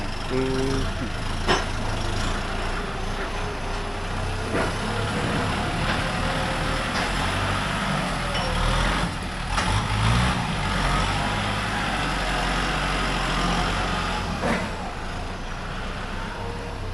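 A newer, imported-assembled vehicle with a side-mounted gear lever runs its engine in a steady, low rumble, with occasional knocks and faint voices in the background.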